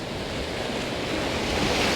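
Ocean waves surge in at Talisker Bay and break on the boulders there, giving a loud, continuous rushing wash that builds slightly over a couple of seconds, with wind buffeting the microphone.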